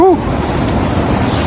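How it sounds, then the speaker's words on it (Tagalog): Strong waves break at a beach in Bani, Pangasinan during a morning high tide, a steady, loud roar of surf and wind after a short vocal whoop at the start. "kitang-kita na yung dagat dito. Ang lakas ng alon guys."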